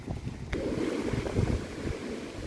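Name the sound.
wind blowing outdoors around young avocado and mango trees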